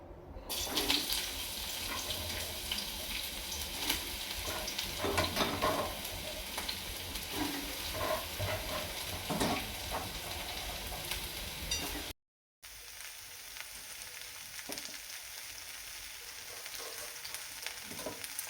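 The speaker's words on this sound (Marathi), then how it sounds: "आता ह्या फोडी आहेत ह्या आपण कढईमध्ये टाकून घेऊयात" Bitter gourd pieces fry in oil in a wok with a continuous hissing sizzle and occasional stirring scrapes, loud and close, with no voices, briefly cut off and then resuming more quietly.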